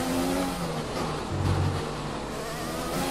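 A Red Bull Formula 1 car in the F1 2020 video game, racing at Singapore, its engine droning loudly and steadily throughout with a slight rise in pitch midway as it passes.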